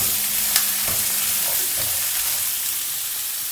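Onions sautéing in a pan for a Kerala crab roast, a loud, dense, continuous sizzle close up with faint stirring scrapes early on.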